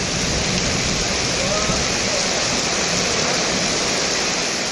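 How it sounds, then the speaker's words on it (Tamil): Heavy rain driven by strong cyclonic wind makes a dense, steady roaring hiss that stays loud and unbroken throughout. "சூறாவளி காற்றுடன் மழை பொழிந்தது"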